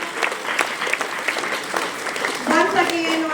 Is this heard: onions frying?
no